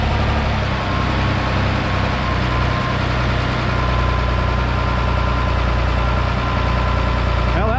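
An Oliver tractor engine idles steadily up close, a constant low rumble with faint knocking running the whole way through, under no clear speech.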